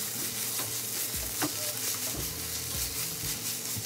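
Samosa filling sizzles steadily in a frying pan, with a spoon or spatula scraping and stirring through it in a few distinct strokes; a close, continuous hiss runs throughout with no voices.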